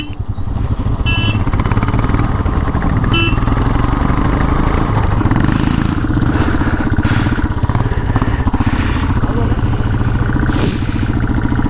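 Royal Enfield Classic 500 motorcycle engine running in Leh, Ladakh, a loud, close, continuous thumping idle with steady low pulses and some mechanical clatter, no talk over it.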